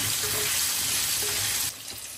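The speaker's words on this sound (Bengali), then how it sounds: "হলুদ আর লবণ দিয়ে একটু ভেজে নিচ্ছি।" Food frying in a pan with turmeric and salt, a dense loud sizzle with a constant high hiss that drops a little near the end, close up and with no voices.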